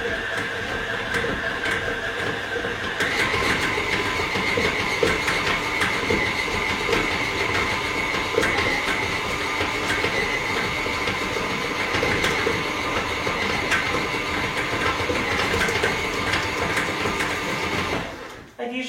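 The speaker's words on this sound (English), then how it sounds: "to turn the mixer on sort of highish speed now" A stand mixer kneads bread dough with salt worked in at a high speed, making a loud, steady mechanical whir and rattle that runs unbroken for about eighteen seconds before cutting off.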